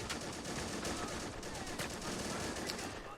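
Machine gun fire in the WWII strategy game Men of War: Assault, set during the 1942 Dieppe raid on France, rattles in dense, rapid bursts throughout, fairly faint and distant against steady battlefield noise.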